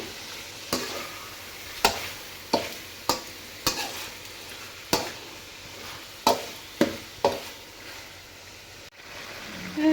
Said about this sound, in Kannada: ಅದನ್ನು ಸೇರಿಸ್ಬಿಟ್ಟು ಈ ರೀತಿಯಾಗಿ ಚೆನ್ನಾಗಿ ಒಂದು ಟೈಮು ಮಿಕ್ಸ್ ಮಾಡ್ಕೊಂಬೇಡಿ.